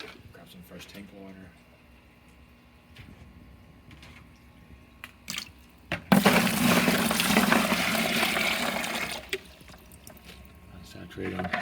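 Fresh aquarium tank water is poured over filter media from a Sunsun canister filter, a loud gushing splash lasting about three seconds. Quieter handling noises and talking come before and after it.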